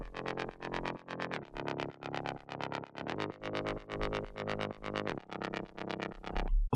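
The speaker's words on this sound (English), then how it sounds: "The next bass is a silent 1 bass trembling, which is actually a rolling bass, and you can achieve this by linking the LFO to the filter." Rolling synth bass from Sylenth1 with an LFO driving the filter cutoff, pulsing in fast repeated bright plucks over a low bed, steady and rhythmic for a progressive house track, with no voices.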